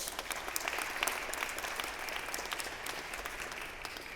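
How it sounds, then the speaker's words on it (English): An audience at a Memphis parks panel event gives a round of applause, a steady, moderately distant wash of clapping that holds evenly throughout without cheering. "Let's give them a round of applause."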